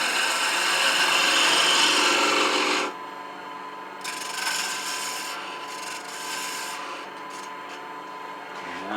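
Woodturning gouge slicing into a spinning piece of wood on a lathe, shaping a one-piece baby rattle; a loud steady rasping cut for about three seconds, then lighter, intermittent scraping contact.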